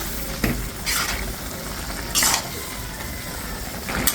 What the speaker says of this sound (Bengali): এখন মাছগুলো দিয়ে একটু নেড়ে ছেড়ে দিচ্ছি